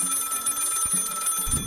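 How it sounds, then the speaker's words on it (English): A telephone rings in the video game Lil Guardsmen, a steady high electronic trill sustained for nearly two seconds over faint low background thumps, fairly clear with no speech. "Oh, phone's ringing."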